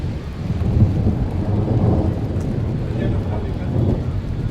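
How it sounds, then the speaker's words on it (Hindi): Thunder rolls under steady rain during a thunderstorm, a dense, loud, continuous low rumble with raindrop patter across the whole stretch and no clear voices. "अभी बूंद पड़ रही है, इतने तेज़ नहीं होती"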